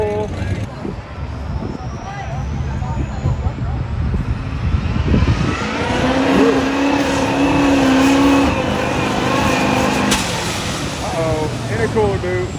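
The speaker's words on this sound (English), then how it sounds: "next up we got like a racing looking truck, that Chevy with full roll cage in it" A Chevy racing truck with a full roll cage at a mega truck competition revs its engine in a loud, sustained roar with a rising whine, heard amid crowd noise and people talking.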